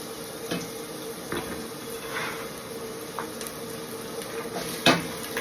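Seasoning dumped into hot avocado oil in a soup pot, a low, continuous sizzle with scattered scraping and stirring clinks and one sharper knock of utensil on pot near the end.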